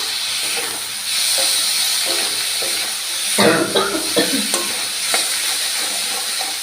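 Chopped tomatoes frying in a pan for desi tadka Maggi, a steady loud sizzle and hiss with a burst of scraping, clattering stirring in the middle and scattered knocks after.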